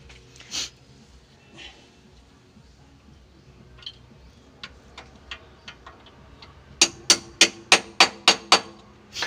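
A hammer strikes metal during a transmission repair, with a few scattered taps followed by a quick, loud run of about eight evenly spaced blows near the end.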